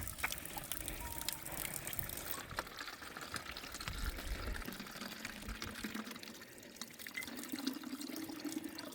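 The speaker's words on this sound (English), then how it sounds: "I've come to my first water bottle refilling fountain." Water from a water bottle refilling fountain pours steadily and splashes into a basin, a continuous close gush that shifts slightly in tone near the end.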